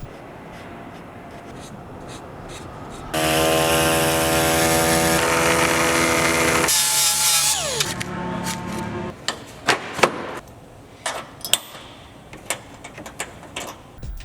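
A power tool cuts a small piece off a headlight bracket during a quick-disconnect bumper install, giving a loud whining buzz for several seconds. Sharp knocks and taps from handling the part follow.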